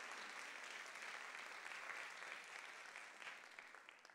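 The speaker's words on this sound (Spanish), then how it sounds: "Un aplauso a estas lindas muchachas." Audience applause for young women at a women's congress, a steady wash of clapping that fills the whole stretch alone and fades slightly at the end.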